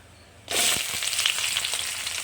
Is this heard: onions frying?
yes